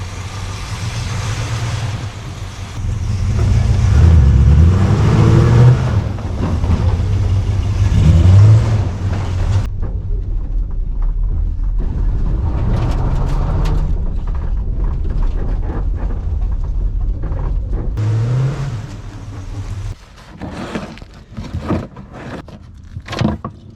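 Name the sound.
Plymouth Roadrunner car engine driving around the yard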